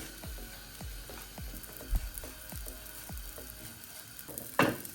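Kunafa dough roasting in butter in a pan, a steady frying sizzle broken by repeated scraping strokes of a spoon or spatula as it is stirred, with a sharper clatter near the end; no voices.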